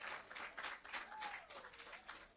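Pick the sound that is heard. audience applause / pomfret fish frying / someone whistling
audience applause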